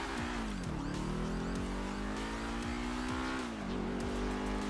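A car's engine in GTA Online, a stock car with no upgrades, drones steadily and loudly throughout, its pitch dipping and climbing as it revs, with faint tire noise and no talking.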